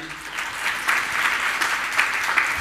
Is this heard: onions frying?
no